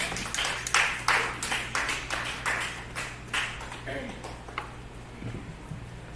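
Scattered audience clapping at a live music and artist showcase night, individual claps distinct and rhythmic, fading toward the end, with a steady low hum underneath.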